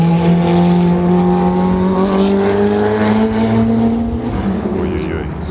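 Ferrari race cars roar past at close range, a loud engine tone sliding downward in pitch as the cars go by, with a steady din of crowd or track noise beneath it.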